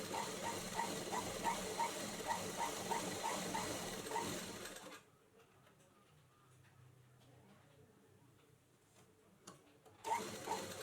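A sewing machine runs steadily, stitching around a blouse patti, its needle ticking in a quick, even rhythm for about five seconds. It then falls quiet under faint room noise before starting again briefly at the end.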